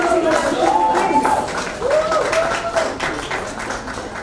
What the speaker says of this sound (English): Applause for Sir.